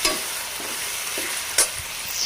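Chicken pieces fry in a pan with a bright, steady sizzle, punctuated by a few soft stirring scrapes and one sharper clink, close up with no voices.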